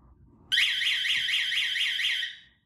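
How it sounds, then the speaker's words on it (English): An alarm triggered through an RF remote transmitter and an RX480E 868 receiver module sounds a loud, steady electronic warble for about two seconds and then cuts off, with no talking. "The alarm forms a loop and starts working."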